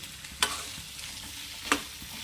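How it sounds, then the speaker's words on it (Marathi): Chole masala gets stirred through its spices in a pan over medium heat, a soft sizzle broken by two sharp scraping strokes of the spoon, close and without speech. "आता मिक्स करून घ्यायचं असं सगळ्या मसाल्यामध्ये"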